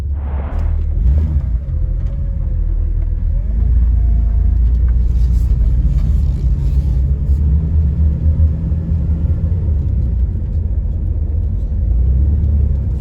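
A truck driving along a road at night, a loud steady low engine rumble and road noise filling the cabin with no talking.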